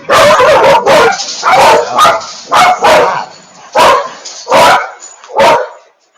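Several dogs in a house bark loudly and close by, about ten sharp barks in quick irregular bursts with brief pauses between them.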